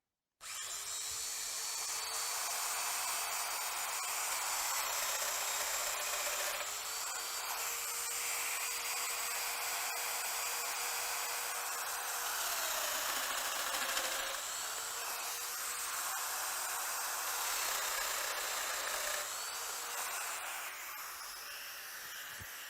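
A Festool Domino joiner fitted with an 8 mm cutter whines steadily at high pitch while plunging holes into a furniture panel, with slight dips in tone as each cut is made, close and sustained.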